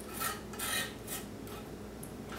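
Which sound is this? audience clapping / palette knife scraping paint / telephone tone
palette knife scraping paint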